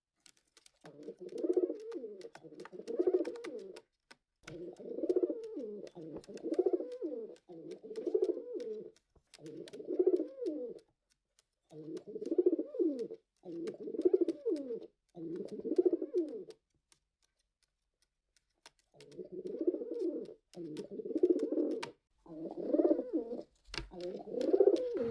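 Pet pigeons coo at home in repeated rhythmic bursts of low throaty calls, a dozen or so phrases separated by short pauses, with one longer quiet gap partway through; close and clear, with no talking.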